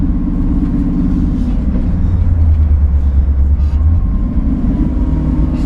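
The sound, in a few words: 1965 Ford Mustang GT350 engine with side exhaust pipe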